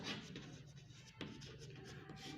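A pen moves across paper as a Hindi-speaking chemistry teacher writes out an organic chemistry question by hand. The scratching strokes are soft and close, with one sharper tap midway.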